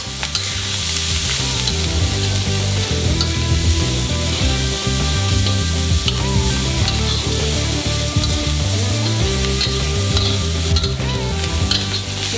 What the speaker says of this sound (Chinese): 就像我这样炒，要放点油。